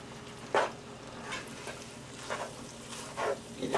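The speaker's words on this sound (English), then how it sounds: "Let me stir it a little bit" Meat sauce for spaghetti stirred in a pan, with a few brief scraping, sizzling bursts spaced a second or so apart over a quiet, steady background.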